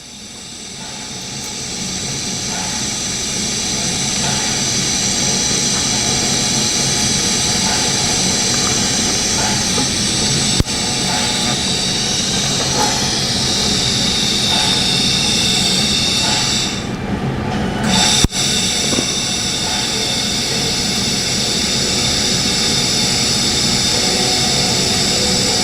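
A TIG welder runs at about 75 to 78 amps on a foot pedal, welding stainless steel or aluminum with a loud, steady hiss and buzz that holds continuously, close by, with no talking.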